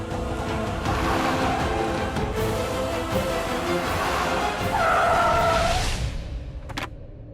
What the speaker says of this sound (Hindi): ये जो इतनी तेज गाड़ी आ रही है